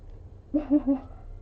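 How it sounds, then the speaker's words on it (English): Three short, rising meow-like calls from a cat outside, fairly close and distinct over a low background hum, with no talking. "I know my cats by their meows."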